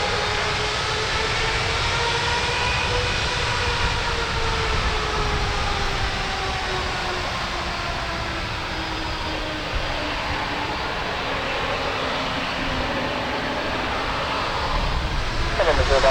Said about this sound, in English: Boeing 9 Christian 950 heavy, runway 34 left, clear for takeoff